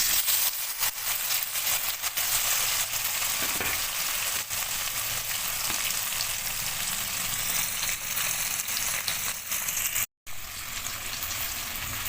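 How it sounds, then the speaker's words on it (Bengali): Paneer pieces shallow-frying in hot oil for a Bengali paneer aloo posto dish give a steady, close, dense sizzle that runs throughout, with one brief dropout near the end. "তেল আমার গরম হয়ে গিয়েছে এখন আমি পনিরের টুকরোগুলো দিয়ে দেবো হালকা করে ভেজে নেবো"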